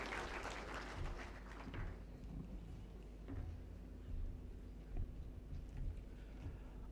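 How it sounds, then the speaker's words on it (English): Faint applause from an audience at a tenth-anniversary ceremony, strongest in the first two seconds before fading to a low, distant patter of scattered claps under room noise. "Let's give him a hand of applause."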